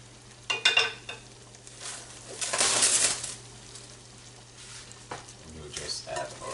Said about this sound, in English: Now we're going to add our apples.